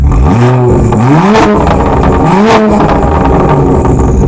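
A 2013 BMW 1M Coupe's 3.5-liter engine revs hard several times close by with the exhaust valve open, the loud exhaust rising and falling in rapid bursts, unmuffled and throaty.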